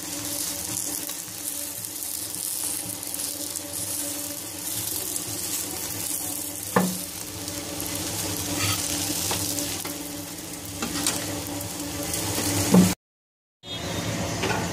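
A stuffed beef mince paratha cooks on a pan with a steady oily sizzle throughout, broken by a couple of soft knocks and a brief silence just before the end.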